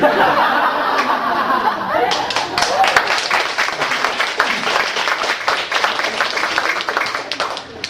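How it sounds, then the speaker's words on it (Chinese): An audience at a short talk on interpersonal communication breaks into applause after a couple of seconds of low room noise; dense, steady clapping follows and carries on to the end. "感谢各位给我一个振奋的掌声哈"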